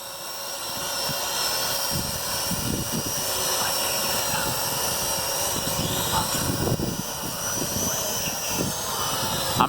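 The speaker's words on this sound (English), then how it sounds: "Quadcopters are fun!" A Venom Pro GPS quadcopter drone flying outdoors in a park on a windy day gives off a steady high-pitched whirring buzz that holds for the whole stretch, with gusty low rumbles of wind underneath.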